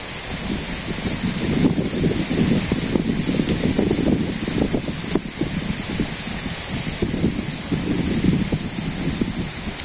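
Stormy wind sweeps through mango trees in a village, a loud, continuous rustling roar with gusty surges and swells.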